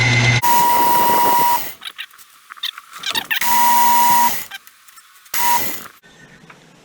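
A lathe polishing a brass and ipe wood ring whirs in repeated bursts with a high steady whine, switching on and off several times with short quieter gaps of small clicks and handling noise between runs.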